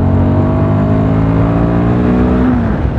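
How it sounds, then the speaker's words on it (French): Royal Enfield Guerrilla 450 motorcycle engine running through a short exhaust, a loud, close, steady throaty drone with audible airbox breathing, pitch holding level then dipping slightly near the end. "Un joli son couplé à cet échappement court, et on entend aussi la boîte à air"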